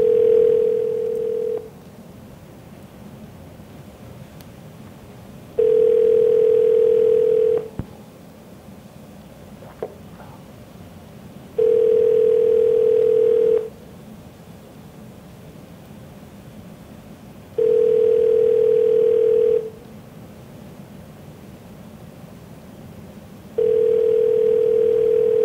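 A telephone dial tone pulses in a steady on-off cadence, long tones separated by pauses, repeating five times over a low background hiss, clear and alone with no talk.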